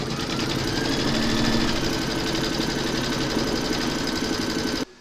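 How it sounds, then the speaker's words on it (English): An embroidery machine stitching a placement outline for a coffee placemat, a loud steady rapid needle rattle and motor whir running continuously before stopping abruptly at the end. "Load the file Coffee 2 into your machine, and then you're going to stitch round number 1, and that's going to give you a placement outline"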